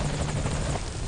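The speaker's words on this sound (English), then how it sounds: "Alright, there it is. That's our helicopter." Helicopter in the video game Metal Gear Solid 5 Ground Zeroes on a night mission, its steady rotor chop and low engine drone loud and continuous throughout.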